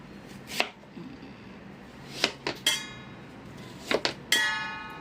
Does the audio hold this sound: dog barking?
no